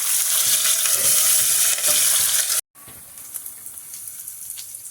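Onions frying in a pan with green chillies for an okra curry, a steady loud sizzle that drops out briefly and returns softer, with faint watery hiss.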